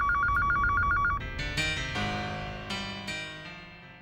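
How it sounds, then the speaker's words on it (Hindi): An electronic telephone ringtone trills in a short repeating pattern indoors, then gives way to a swell of louder music with sharp accents. "तुम्हारा ही फोन होगा।"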